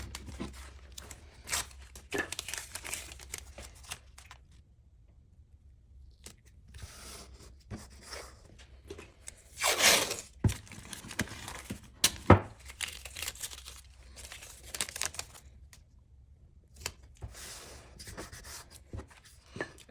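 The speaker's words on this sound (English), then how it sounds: "Take some blue painter's tape." Blue painter's tape is pulled and handled while making a simple miter box, giving soft crinkling and rubbing with one sharp tearing rip partway through, quiet and close, with no talk.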